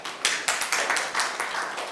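Clapping from a crowd at a regional autonomy forum, a steady burst of applause with irregular peaks, fairly close and continuous, no talking over it.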